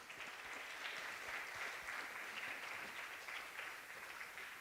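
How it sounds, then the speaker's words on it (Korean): Faint, distant applause from a church congregation at a Friday prayer meeting forms a steady, even hiss of clapping that neither swells nor breaks. "우리 하나님께 영광으로 박수로 영광 돌립니다."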